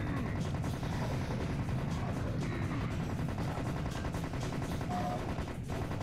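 Constant heavy weapons fire in the Serious Sam shooter game, with rapid gunshots and rocket blasts piling into a dense, loud, unbroken barrage over a busy game soundscape.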